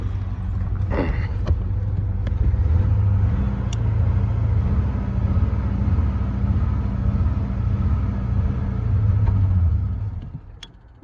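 A vehicle engine idles and is given gas while the vehicle is winched up, a steady loud low rumble holding for about ten seconds before fading out near the end.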